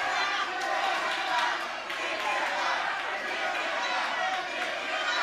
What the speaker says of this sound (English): Crowd calling for them to be removed.